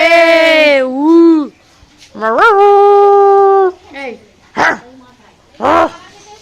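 Several dogs gather nearby and bark in a few sharp bursts, mixed with long, rising whining or howling cries, loud and close, with short pauses between outbursts.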